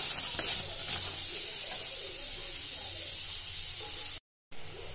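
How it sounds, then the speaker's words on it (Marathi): Tomatoes frying in a pan while being cooked down for paneer bhaji, a steady broadband sizzle and hiss running continuously throughout, briefly cutting out near the end before resuming. "तर बघा इथे टोमॅटो पण फ्राय होत आहे"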